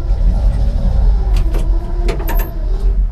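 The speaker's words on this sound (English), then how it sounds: "the starter, it's got a bad habit of not engaging squarely with the ring gear" A TR70 petrol engine whose starter motor does not engage squarely with the flywheel ring gear cranks over with a loud, close, churning rumble and scattered metallic clicks and clanks; no voices.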